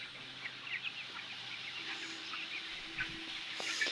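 Chickens in a poultry shed give soft, scattered clucks and murmurs, faint and intermittent over a quiet hum of the shed.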